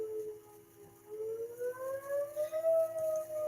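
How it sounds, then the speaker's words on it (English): A neighborhood tornado siren wails in the distance, its pitch slowly rising and falling in long sweeping tones over a quiet background. "That's our tornado siren"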